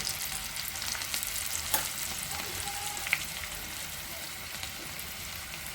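Curry leaves, a pinch of asafoetida and green chillies temper in hot oil for dhokla, giving a steady, close frying hiss with a couple of brief pops and no speech.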